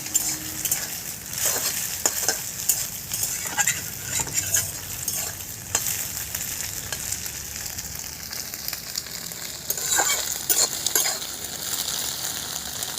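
Egg and potato sizzle steadily in hot oil in a wok while a spatula scrapes and taps against the pan at irregular moments, nearby and moderately quiet, with no voices.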